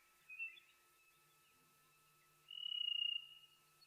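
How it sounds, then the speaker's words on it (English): Birds at an African waterhole in a quiet setting give two high, thin trilling calls, a short one early and a longer buzzy trill later, faint against near silence. "the bird calls are really coming through quite beautifully."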